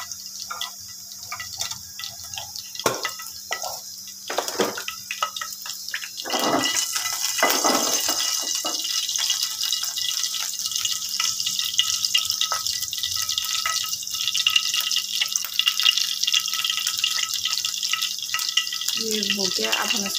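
Half a spoon of cumin seeds dropped into hot oil for an eggplant gravy, a steady bright sizzle that builds and holds for the whole stretch, close and continuous.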